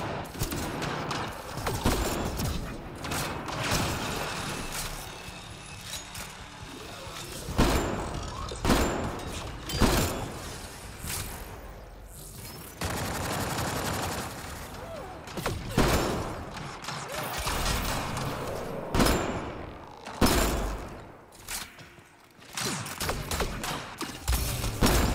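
Rapid bursts of gunfire in the video game Mass Effect: Andromeda, repeated volleys and single shots punctuated by brief lulls, mechanical clanks and thuds, loud and close throughout with no speech.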